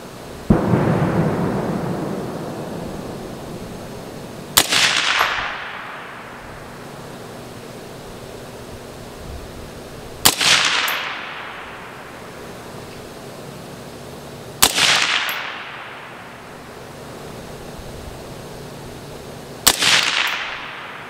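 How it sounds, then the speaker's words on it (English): Five single rifle shots from a Palmetto State Armory Jakl fired at painted splatter targets, spaced about five seconds apart, each a loud sharp crack with a long decaying echo and quiet gaps between. "we are going to shoot for the center bullseye on the left target"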